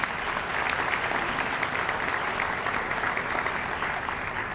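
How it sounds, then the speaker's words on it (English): Steady, dense applause from a meeting audience for teachers and students at a school district steering committee session, sustained evenly throughout without pause. "So please, another round of applause for our teachers and students."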